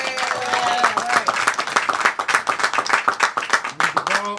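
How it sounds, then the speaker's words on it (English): Audience applause at a Pennsylvania event marking the passage of a hair discrimination ban, honoring a congressmember and state senator; brisk, steady clapping from a crowd fills the moment, with a few voices briefly audible at the start and end. "Can we please give them a round of applause?"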